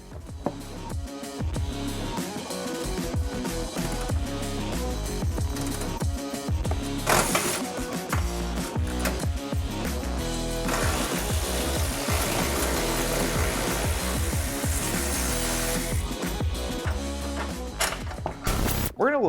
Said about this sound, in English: Go ahead and remove the upper shock mount bolt.